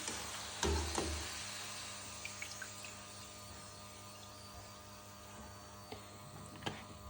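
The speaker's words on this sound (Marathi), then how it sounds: "आता आपण उरलेले सगळे चिप्स अशा प्रकारे एक एक टाकून तळून घेऊत" Raw banana chips frying in hot oil give a steady, close sizzle throughout, with a few soft knocks and clinks near the start and again toward the end.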